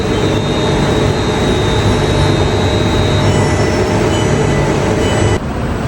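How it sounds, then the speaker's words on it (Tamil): Steady loud rumble of a BTS metro train approaching a station in Thailand, with broadband rolling noise and a faint high whine, continuous throughout, shifting slightly near the end. "வருது வந்து விட்டது ட்ரெயின் நெருங்கிக்கிட்டே இருக்குது"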